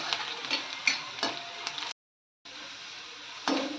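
Onions fry in a pan with a steady sizzle broken by light stirring taps, then a short gap of silence before the frying hiss returns.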